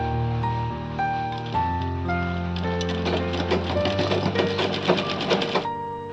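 A sewing machine stitching a cotton petticoat, its rapid mechanical needle chatter building in the second half over a steady tonal musical background, close and loud.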